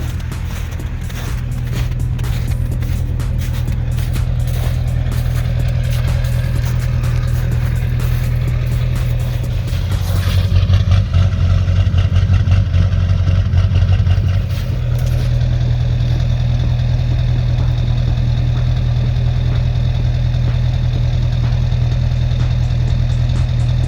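Duramax diesel truck engine idling roughly right at the exhaust, a loud steady low rumble with a clattering knock and a brief surge in the middle, no talking.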